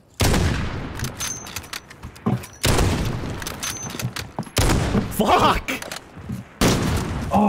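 Bursts of gunfire in the Call of Duty: Modern Warfare video game during a 1v1 match, loud repeated volleys with booming shots in several clusters, while a player swears and talks over them.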